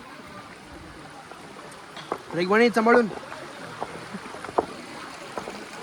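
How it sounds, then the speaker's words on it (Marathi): A forest stream crossed on a trek to Vasota fort, with water rushing steadily throughout and a person speaking briefly over it midway. "हा ओढा क्रॉस करून आम्ही पुढे चाललो आहे"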